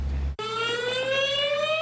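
A loud wailing siren starts abruptly and holds a steady, slowly rising tone, sounding close and alone.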